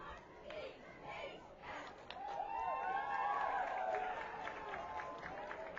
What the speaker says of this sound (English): Cheerleaders get a nice round of applause.